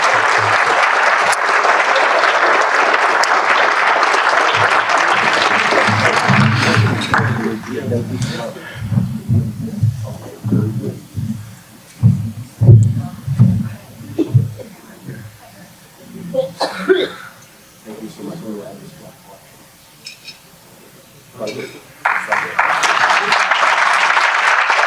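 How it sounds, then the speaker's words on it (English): Audience applauding guests at a community gathering: a full burst of clapping at the start, then a stretch of coughs, shuffling and murmuring, before the applause swells again at the end. "we can applaud them while he comes up"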